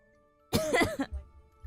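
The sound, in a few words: coughing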